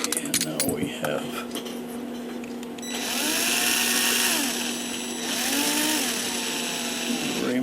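A broach is worked through a hole in the brass plate of an Urgos triple-chime tall case clock movement before bushing. The metallic cutting and scraping comes close and steady in two long sustained passes after some brief clinks.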